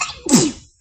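A single close, abrupt human sneeze with a sharp explosive burst, then silence.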